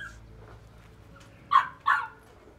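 A red Hmong bobtail dog gives two short, sharp barks in quick succession, close by, after a quiet stretch with faint background noise.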